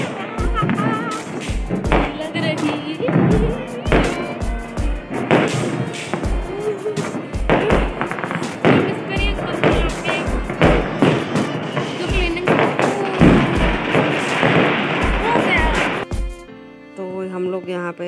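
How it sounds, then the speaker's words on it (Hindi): Diwali firecrackers and an anar fountain firework burning and popping nearby, a hissing fountain under a rapid series of sharp low cracks and thumps, with people talking over it throughout. "तो ये देखिए ये जला रहा है, और अनार जल रहे हैं, तो दोनों एक साथ।"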